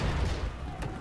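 Ship cannons firing in a naval battle in Assassin's Creed 3: a deep, heavy boom that rolls out and fades, with a brief crack late in the clip.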